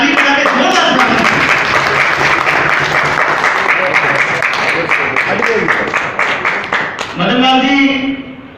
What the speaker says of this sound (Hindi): आप ताली बजा के जोरदार स्वागत